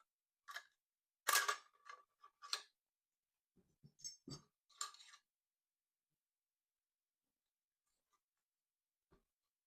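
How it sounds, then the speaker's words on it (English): An AR-15 charging handle and bolt carrier group being pulled out of the upper receiver: a few sharp metallic clicks and sliding scrapes, close and quiet, with long silences between them. "Now let's remove the charging handle and the bolt carrier group."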